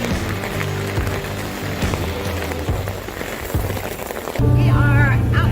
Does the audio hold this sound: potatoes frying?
no